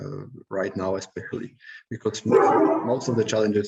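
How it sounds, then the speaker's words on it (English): A pet dog barks in short bursts in a house, faintly beneath a man's close, continuous speech. "Sorry if you hear a dog barking"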